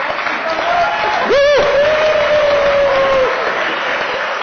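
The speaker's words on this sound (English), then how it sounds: "Give Christian a applause" An audience at a fitness-tech startup pitching event applauds a presenter after his pitch, with sustained clapping and a rising whistle-like cheer near the start, under a voice speaking.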